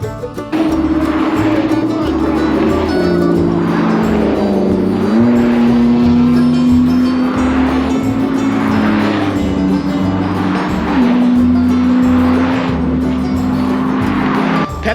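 Loud engines rumble and rev continuously, with shifting tones and surges that rise and fall, the noise of several cars running close by.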